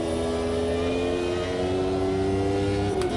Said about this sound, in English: Be nice to hear that Renault V10 engine again.